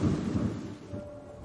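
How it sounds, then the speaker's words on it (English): A deep rumble of thunder rolls steadily and fades slightly toward the end, heavy and low with no other sounds. "The third heavenly lightning bolt came with a booming sound."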